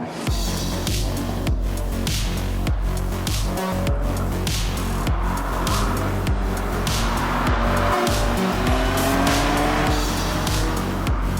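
Subaru BRZ lapping an autocross course, its engine revving hard with repeated gear-change breaks and rising pitch sweeps, mixed with tire squeal through the turns, loud and close throughout with no talk.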